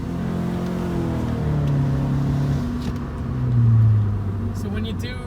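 A 2016 Subaru Impreza 2.0i Limited with about 60k miles is accelerating with the pedal floored. Its engine gives a sluggish, steady drone that swells slowly rather than revving hard, heard from inside the cabin with talk over it.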